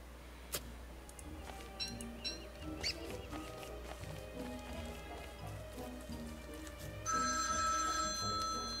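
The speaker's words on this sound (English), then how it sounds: "Oh, and that's my phone." A phone rings near the end, a bright, steady electronic tone that follows rain patter and scattered drips, with no voices.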